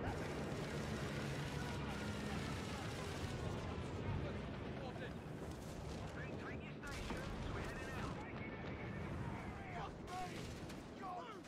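Dense gunfire and artillery rumble from a Company of Heroes 3 multiplayer battle with British Churchill tanks, a steady loud wash of shots and booms under continuous talking.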